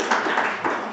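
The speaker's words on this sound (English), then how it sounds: "you can clap." An audience at a breakfast gathering claps briefly, a close, dense patter of hands over a short burst.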